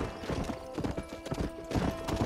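A horse's hooves clop in a fast, steady rhythm close up in the Red Dead Redemption video game, with a faint whinny in the mix.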